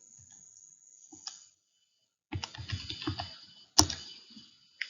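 Keys on a calculator keypad are tapped in short clusters of quiet clicks, with a pause and then a quicker run of presses, heard alone.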